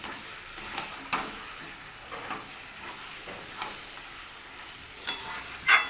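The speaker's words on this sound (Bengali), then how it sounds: "এবার খুব ভালো করে মশলার সঙ্গে আমি মিশিয়ে দেব" Spoon stirring mutton curry with potatoes and spices in a pan with little oil, soft scraping strokes over a faint steady sizzle, a few louder knocks against the pan.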